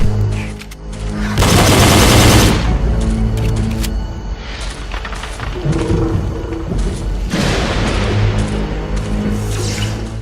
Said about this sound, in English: the crossbow. Once again, inspired by Call of Duty, it fires explosive bolts.